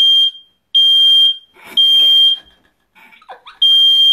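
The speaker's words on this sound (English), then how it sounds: "Fire alarm?" A smoke alarm gives repeated piercing beeps in a steady rhythm, loud and near, while brief voices and other noises fill the gaps between blasts.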